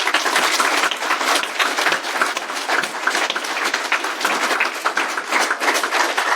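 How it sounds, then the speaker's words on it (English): An audience at a talk on accessible security for disabled people claps in a sustained, dense round of applause lasting several seconds, even and moderately loud throughout without speech. "And a final round of applause for Ali."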